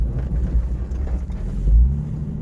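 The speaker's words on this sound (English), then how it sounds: "it will not shift into second gear because I have the solenoid cut" A 1989 Jeep XJ with an AW4 transmission on manual shift control, its second-gear solenoid cut, rumbles close by with a low, throbbing engine note that swells briefly near the end.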